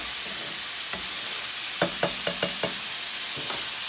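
Roughly half a teaspoon of butter melts in a pan at home, giving a soft, quiet sizzle punctuated by a short run of light clicks and pops near the middle.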